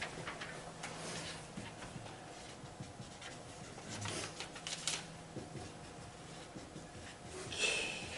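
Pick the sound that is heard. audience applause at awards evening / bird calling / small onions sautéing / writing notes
writing notes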